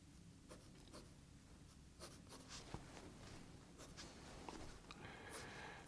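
Pencil drawing lines on paper, a faint close scratching with short strokes repeating over a quiet background.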